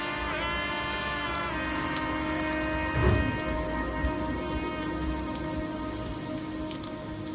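Stuffed bitter gourd fries in a pan with a constant dense crackling sizzle, steady and close, with a brief louder burst partway through and no talking.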